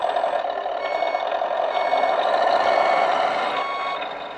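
A Tamiya Globe Liner RC truck in reverse emits a steady electronic reversing beep tone, continuous and fairly loud and close, with no talk.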